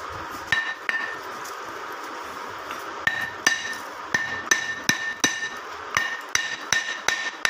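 An emery millstone for a flour mill being struck to test its quality, giving a series of sharp, ringing metallic-sounding taps at an irregular pace, close and moderately loud with no talking.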